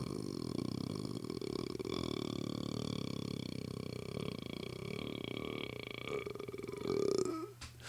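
A long, sustained burp rumbles on for nearly eight seconds, a deep continuous croak close to the microphone that rises and then trails off at the end.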